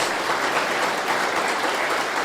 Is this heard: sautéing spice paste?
no